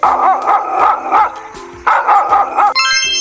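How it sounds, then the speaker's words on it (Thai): A dog barks in two loud, rapid bursts of yapping, close by, with a short pause between them and a brief bright tone at the end. "เสียงพี่สุนัขค่ะ"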